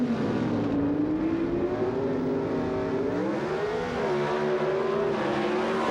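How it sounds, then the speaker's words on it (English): Gasoline-burning Pro Stock drag race cars at the 1980 Springnationals in Columbus, Ohio: a loud, continuous engine roar that rises and shifts in pitch as the cars power down the strip, with no voices. "the gasoline-burning Pro Stock cars race to the finish line"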